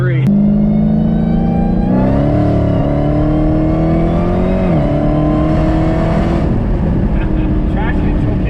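A Dodge Hellcat with its hood removed revs loudly and continuously, its engine note and whine climbing and dropping in pitch through the gears, close and dominant throughout.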